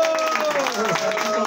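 An audience claps for a birthday celebration at a rock and roll school, a brief burst of applause under a single speaking voice.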